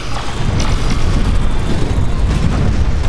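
Torpedoes exploding in the space strategy game Master of Orion, a dense, continuous rumble of booming blasts with scattered sharper bursts, loud and sustained throughout with no voice over it.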